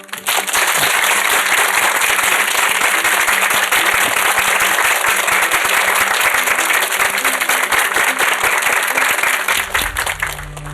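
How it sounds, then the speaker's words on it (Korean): Sustained audience applause at a talk concert welcoming guests on stage, dense and loud clapping filling the room for about ten seconds before it tapers off. "박수 한번 쳐주시죠"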